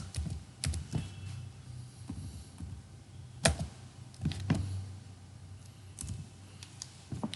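Quiet, irregular clicking of computer keyboard keys as an Excel formula is typed, with scattered single taps and a few sharper strikes over a low room hum.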